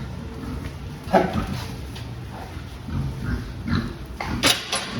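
Weaned pigs being fattened grunt and snuffle in short bursts, with a few sharper squeals, over a steady background hum.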